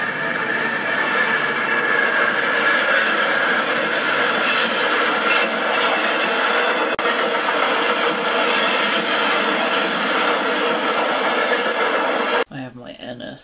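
A RoadRailer freight train rumbles past steadily at close range with a continuous roar and rattle, then the noise cuts off abruptly near the end.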